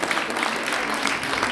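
Applause from the audience at an award ceremony in Brussels, a steady dense wash of clapping that fills the whole moment without any clear break.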